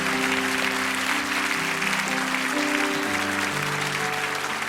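Church congregation applauding warmly as elders return to their seats, a dense steady wash of clapping filling the hall with sustained tones, likely music, running underneath.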